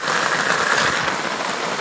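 Rain falls steadily around an open-sided shelter with a roof overhead, a close, even patter of drops on surfaces with no break.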